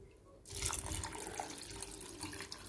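Water poured from a tap into basmati rice in a pot while making maqluba, a steady close splashing rush that starts abruptly and runs on without any talk.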